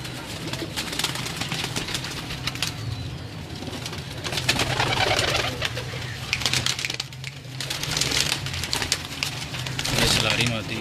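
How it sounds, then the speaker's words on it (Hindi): Salara pigeons coo in low, repeated throaty phrases close by, with a voice speaking over them and faint rustling throughout. "ये भी सलारा कबूतर है।"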